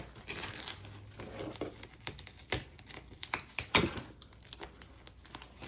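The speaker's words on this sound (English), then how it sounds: "this is taking off all the tape that's already on the box" Packing tape being peeled and torn off a cardboard shipping box, heard as a run of close, crackling rips and crinkles with several sharper tearing bursts, no voices.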